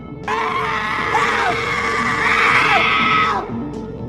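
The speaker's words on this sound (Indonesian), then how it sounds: "mencoba berteriak sekencang-kencangnya untuk meminta pertolongan" A man screams at full strength for help, a loud, strained, sustained cry of about three seconds with rising and falling pitch, alone and close.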